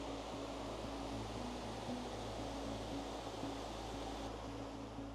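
Steady broadband rush of river rapids flowing beside the Inverness falls into Loch Ness, continuous and fairly close with no voices.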